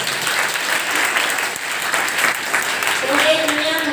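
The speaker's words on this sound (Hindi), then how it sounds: "मैडम के लिए जोरदार तालियां" Loud, dense applause from a crowd at a school farewell ceremony in India, steady throughout, with a voice speaking briefly over it near the end.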